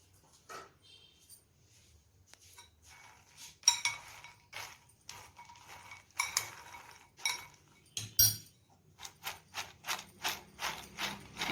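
A spoon stirs phool makhana (fox nuts) in a bowl, giving quiet, irregular clinks and scrapes that turn into a steady run of rhythmic taps toward the end.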